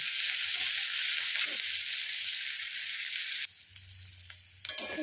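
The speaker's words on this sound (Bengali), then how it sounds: "পেঁয়াজটা ভালো করে ভেজে নেব।" Chopped onions fry in a pan for a Bengali aloo chichinge curry, giving a steady loud sizzle that drops to a quieter hiss partway through, with a low stirring rumble near the end.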